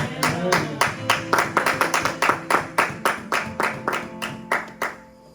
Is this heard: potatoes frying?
no